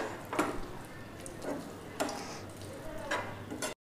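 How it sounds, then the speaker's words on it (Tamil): Sugar syrup with boondi bubbles on a medium flame, a faint, steady simmer broken by a few soft ticks and clinks from the pan. "இப்போ லைட்டாக மீடியம் ஃப்ளேமில் வச்சு இதை நான் கொதிக்க விடுறேன்."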